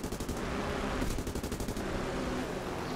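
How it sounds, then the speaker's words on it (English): A .30 cal gunner's machine gun fires in War Thunder from a Russian PBY-5A Catalina, rapid sustained bursts of rattling gunfire close and loud, with a short pause before the firing resumes. "I switch to the 30 cal gunner and I start blazing away at him, trying to get some shots onto target"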